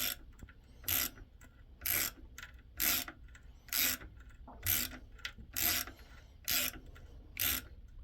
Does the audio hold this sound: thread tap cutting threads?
yes